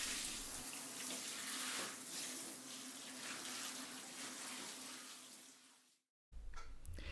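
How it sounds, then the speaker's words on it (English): Mordanted wool is rinsed under a running tap into a sink, a steady splashing gush that fades gradually, stops for a moment of silence, then resumes. "The mordanted wool is now rinsed to remove any excess mordant."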